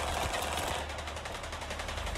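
Rapid automatic gunfire from the video game STALKER 2 rattles in a fast, even stream, loud and continuous, with no voices.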